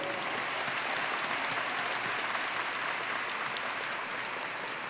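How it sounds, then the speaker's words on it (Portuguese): A crowd claps steadily for Dom Vicente at a Círio de Nazaré religious gathering, dense, sustained applause heard from a moderate distance, slightly fading toward the end. "é para bater palmas mesmo para Dom Vicente Zico"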